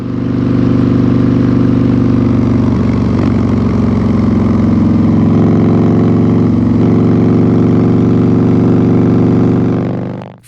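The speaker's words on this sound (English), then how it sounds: "The Jekyll and Hyde exhaust has an electronically controlled valve built in to change the exhaust sound from stock to mid-volume into aggressive volume" A 2025 Harley-Davidson Street Glide V-twin fitted with a valve-controlled Jekyll and Hyde exhaust idles loud and close, a steady throbbing rumble with a brief blip partway through before cutting off at the end.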